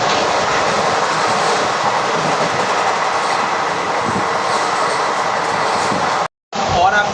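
The 13043 Howrah–Raxaul express train runs steadily along the track with a loud, continuous roar and rumble, heard from on board or close by, broken briefly by a sudden dropout near the end.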